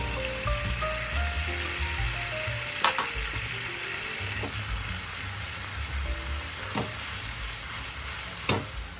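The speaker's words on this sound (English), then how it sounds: "Boil down the teriyaki sauce." Chicken teriyaki sauce of sake, mirin, soy sauce and sugar bubbling and sizzling as it reduces in a pan, a steady close crackle with a few sharp pops and occasional stirring clinks, no voices.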